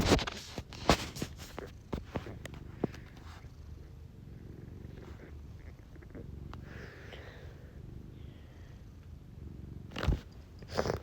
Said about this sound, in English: I'm just so distracted petting my goddamn super duper cute cat.